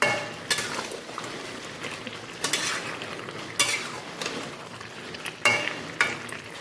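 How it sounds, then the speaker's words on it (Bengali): Mutton is stirred and fried in a pot in a home kitchen, with a spoon scraping sharply about every second or two over a soft, steady sizzle close by. "এই হচ্ছে মটন, মটন কষাচ্ছি"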